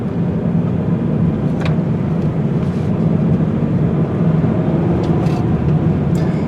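A 2018 Toyota 86 GT runs a turning circle on pavement scattered with loose salt, a steady low engine drone and road rumble heard from inside the cabin, with a few faint clicks and no talk.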